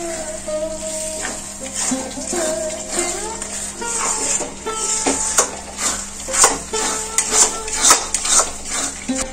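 Spice paste frying in oil in a pan for mutton kosha, with a metal spoon scraping and clinking against the pan in irregular strokes over a soft background sizzle that grows busier toward the end.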